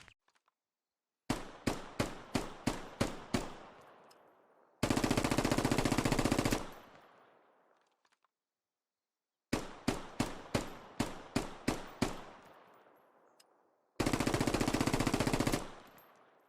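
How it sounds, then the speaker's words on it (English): A C7 rifle in the video game Squad fires semi-automatic single shots, then a sustained full-auto burst, and the sequence repeats for the C8 carbine. The shots are loud, sharp and close, with short echoing tails separated by silence. "here's a short clip of the C7 in both modes, followed by the C8"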